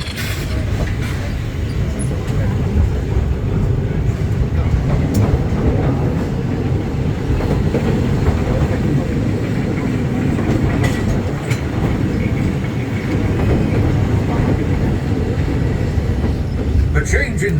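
A Magic Kingdom railroad train rumbles steadily along the tracks from Frontierland toward Fantasyland, with continuous clattering and rattling, loud and close, with a voice speaking over the noise.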